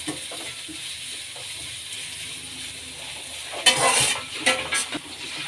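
Onions and curry leaves fry in a pan for Schezwan veg fried rice. A low, steady sizzle runs throughout, then a few louder bursts of spatula scraping and stirring come near the end.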